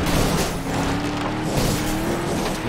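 A race car in FlatOut 2 roars at full throttle on nitro boost, its engine loud and steady, with tire squeal and skidding layered over it.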